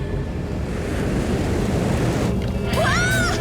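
Cartoon flood water rushing in a steady loud roar, like heavy surf and wind, with a rising and falling whistle-like cartoon effect near the end.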